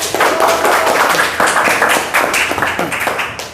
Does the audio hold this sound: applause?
yes